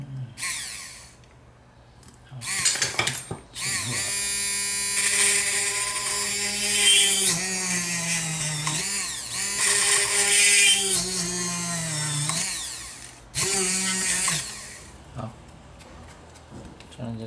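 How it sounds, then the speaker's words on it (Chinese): An electric drill boring holes into a handmade flower vase, with two long whining bursts that rise and shift in pitch, close and loud, separated by short pauses and brief handling noises. "然后这个地方我也上面这个地方我也钻两个孔"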